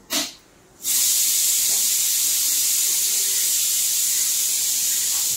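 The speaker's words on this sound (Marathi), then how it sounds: "आता छान भाजून घेऊया आपण हे पिठाला" Coarse Gujarati flour roasting in a hot pan with ghee gives off a steady, bright hiss that starts abruptly after a brief opening burst and carries on evenly and fairly loud to the end.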